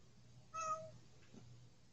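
A cat gives one short, faint meow, then quiet.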